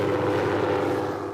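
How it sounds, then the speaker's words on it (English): A helicopter flying over a wild horse roundup gives a steady, fairly loud rotor and engine drone that holds even throughout, with no talk. "So this is the point where a helicopter flies by."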